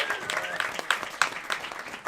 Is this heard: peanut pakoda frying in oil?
no